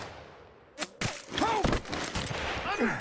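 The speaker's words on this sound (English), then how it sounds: "They're just shooting at random." Sniper gunfire sounds in Fallout: New Vegas as a few sharp rifle cracks ring out with echoing tails at moderate distance. Shouted voices and game sounds play underneath.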